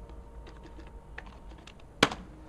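Soft, irregular keystrokes on a computer keyboard tap along quietly, ending in one sharper, louder key hit near the end, with no talking.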